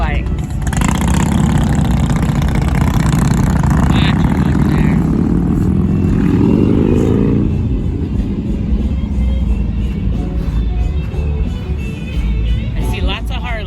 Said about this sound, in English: I see lots of Harleys.